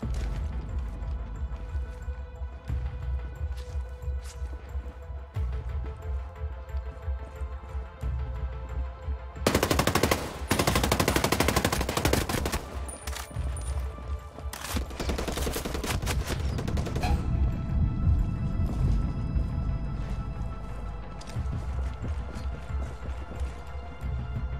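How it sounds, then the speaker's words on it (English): Enemy gunfire in the video game Ghost Recon Breakpoint, with sustained bursts and rapid volleys of automatic fire that peak in a dense, loud stretch midway, over a steady game backdrop. "I'm hearing enemy fire."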